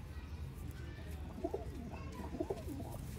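Breeder pigeons cooing in a loft, soft repeated low coos at a moderate distance over a constant background hum, with a couple of distinct cooing phrases about a second apart.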